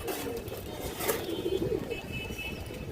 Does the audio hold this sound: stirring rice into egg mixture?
no